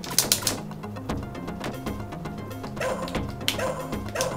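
A dog barks in the arcade game Shadow Dancer, a few sharp yaps near the start and again later, set against game music.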